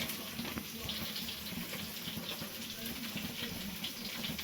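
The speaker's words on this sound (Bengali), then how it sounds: "এবার জল দিয়ে একটু ভেজিয়ে রাখবো।" Water streams steadily from a tap onto ground spices of salt, turmeric, cumin and chili powder set to soak, a soft, even rush under faint background noise.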